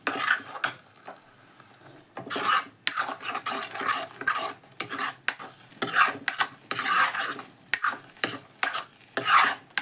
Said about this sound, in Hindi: इसको बार बार चलाते हुए भूनते रहेंगे ताकि ये नीचे से तले में ना लगे